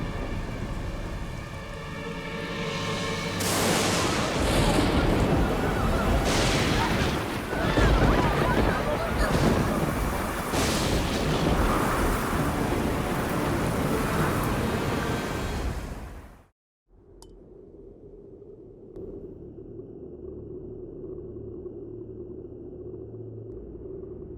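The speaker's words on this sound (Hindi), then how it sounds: "ये तूफान तब तक थमना नहीं चाहिए जब तक वृंदावन पूरी तरह पानी में डूब न जाए" Roaring wind and crashing surf build into a loud, turbulent storm, then cut off abruptly to a quieter low rumble.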